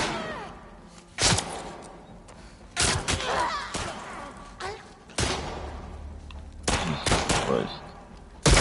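Video game gunfire, a series of loud bursts and single heavy shots spaced across the scene, some rapid and rattling, with echoing rumble between them and someone talking in places.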